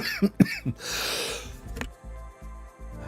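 A few short, sharp coughs close to the microphone, followed by a rough breathy exhale and faint rhythmic background noise.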